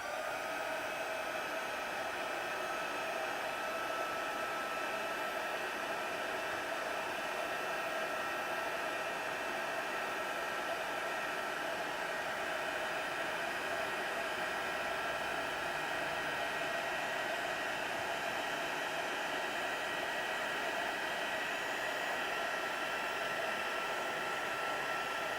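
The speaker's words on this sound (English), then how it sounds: "noise again from the heat tool." A steady, whooshing blast of hot air from a heat tool, running continuously at an even level with no talking.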